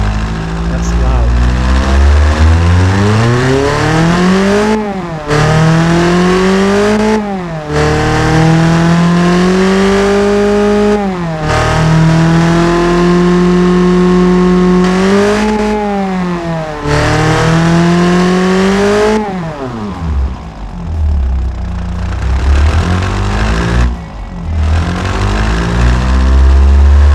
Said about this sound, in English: I don't really like the sound of the Inline 4 with everything on race, because it sounds like a tractor